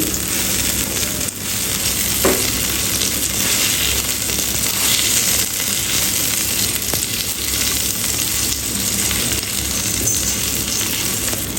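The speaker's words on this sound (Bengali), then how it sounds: "এক পাশ ভাজা হয়ে গেছে আর এক পাশটা এইভাবে করে ভেজে নিব" Thin slices of sweet pumpkin frying in hot oil in a pan for a mashed vegetable dish, giving a steady, dense sizzle that runs close and fairly loud throughout with no talking.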